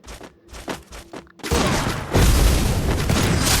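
Sniper rifle shots from the Free Fire mobile game, a few sharp separated cracks followed by loud, dense booming blasts that fill the rest of the clip, with no talking over them.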